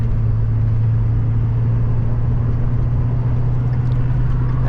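Steady, loud road rumble from inside a car cruising at highway speed, a continuous low engine and tire drone with no breaks or talk.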